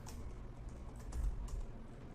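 Password being typed on a computer keyboard while setting up a local account, a quiet steady patter of key presses with a slightly busier burst near the middle, with no talking.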